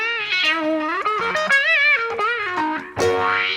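Electric guitar played through an Ableton auto filter set up as a wah, sweeping notes that swell and bend with a vocal, distorted tone, close and loud.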